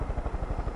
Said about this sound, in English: I'm already in the chopper.